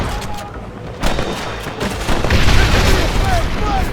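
Red Dead Redemption cliffside gunfight, with several loud booming gunshots in quick bursts over a noisy background, while a voice shouts briefly among the shots.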